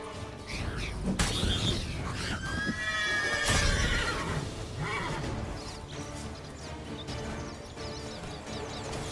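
A horse in The Witcher 3 lets out a loud, shrill neigh and whinny, with hoof clip-clops and game effects around it.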